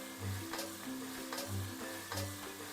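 Garlic sautéing in a pan with salt and black pepper makes a soft, steady sizzle and frying hiss, fairly quiet and close, with a few brief stirring or scraping sounds and no talk.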